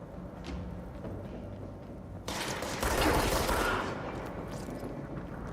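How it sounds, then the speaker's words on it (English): Enemy gunfire in Control, a sudden burst of rapid shots breaking in partway through a low mechanical background hum, loud for a couple of seconds before easing back to a steadier rattle. "What are you shooting at me?"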